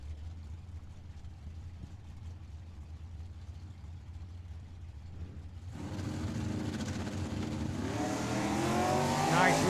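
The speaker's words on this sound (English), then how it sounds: "Nice wheels up launch on the right-hand side for the Mopar" Camaro and Mopar drag racing cars at a dragway, a low idle rumble giving way to a sudden loud roar at launch that keeps rising in pitch and volume as the cars accelerate down the strip.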